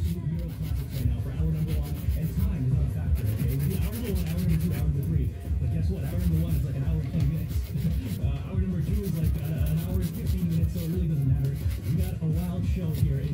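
A nail file beveling an acrylic nail into a sharp almond shape during a full-set application, giving a continuous close, gritty rasping that runs throughout, with voices talking over it.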